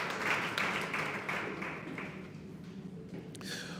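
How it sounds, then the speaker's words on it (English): An audience at a hackathon award ceremony applauds in a dense, steady patter of many hands that gradually thins and fades over a few seconds, heard from some distance. "Ladies and gentlemen, a round of applause."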